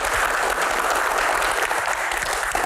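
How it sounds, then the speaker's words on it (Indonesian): An audience at a question-and-answer event claps steadily, a dense, even patter of many hands that holds at one level for the whole stretch with no voices on top. "tepuk tangan"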